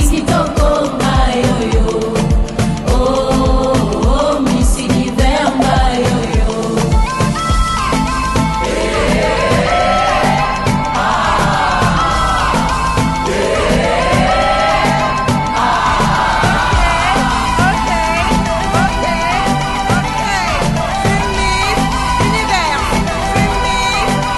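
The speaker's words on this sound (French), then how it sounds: "Applaudissez pour la candidate numéro 3." A pageant audience at the Miss Universe DRC 2025 competition cheers, whoops and shouts continuously and loudly over booming stage music, a dense crowd roar that lasts throughout.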